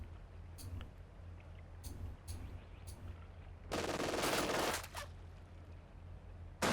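A video game weapon fires a sustained burst of rapid gunfire lasting about a second, preceded by a few sharp single clicks, fairly loud against quiet surroundings.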